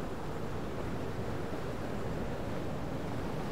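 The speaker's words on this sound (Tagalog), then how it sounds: "Laki ng alon na yun." Large ocean waves surge at Sual, Pangasinan in a constant, broad wash of surf and wind noise, with no distinct breaks and no voices.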